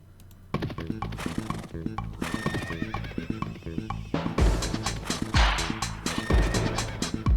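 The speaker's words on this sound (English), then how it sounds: "You spend the next several minutes listening to this beautiful horse song, every last second of it." A loud musical track from Homestuck is built from horse neighs and whinnies set to a driving, repetitive beat. Pitched neighing phrases and thumping rhythmic hits repeat over and over.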